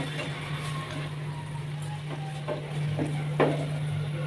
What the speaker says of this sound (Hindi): अब इसमें डाल देंगे हम लोग जो अभी हमने रोस्ट की हैं तोरियां। अब इस ग्रेवी में हम लोग इसको पकाएंगे।